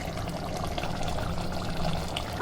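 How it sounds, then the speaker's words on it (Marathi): Hot water poured into a mutton rassa curry, a steady close splashing pour with a thin trickling edge, continuous and free of speech. "आता आपण पाणी गरम झालेलं आहे, तर आपण हे पाणी याच्यात मिसळून देऊया"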